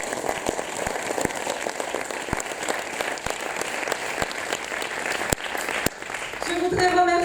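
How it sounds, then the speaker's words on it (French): A theatre audience applauds after a show, dense sustained clapping from a crowd that continues steadily, ending in a brief mix of noise near the close. "On les applaudit."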